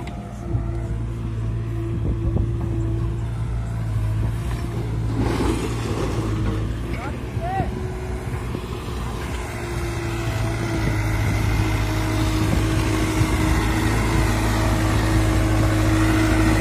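Sonalika DI 745 Sikandar tractor engine running steadily while the tractor pulls through mud, a continuous low rumbling drone that holds throughout with slight swells, close and loud, with faint voices in the background.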